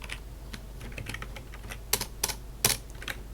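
Close, fairly quiet typing on a computer keyboard while entering a command on a Linux machine, a quick run of keystrokes with a few sharper, louder clicks near the end, over a faint low hum.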